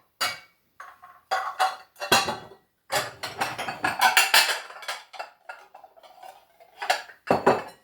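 A white ceramic bowl is taken out and handled in a home kitchen while making vegan cornbread with mashed sweet potatoes: close, sharp clinks and clatters in irregular bursts, with no talking.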